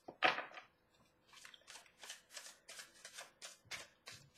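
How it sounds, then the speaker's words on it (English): Tarot cards being shuffled by hand: a sharp riffle burst at the start, then a steady series of soft, rhythmic shuffling flicks, close and quiet with no talking. "Okay, one more shuffle."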